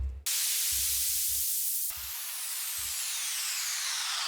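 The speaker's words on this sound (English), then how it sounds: "My effects consist of white noise." A synthesized white-noise sweep of the kind used for electronic music build-ups before a drop: a loud, steady hiss that rises and brightens, with short low bass thumps pulsing underneath.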